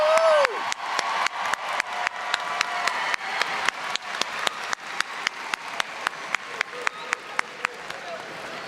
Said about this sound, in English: Let's give all of our CVCC graduates another big round of applause.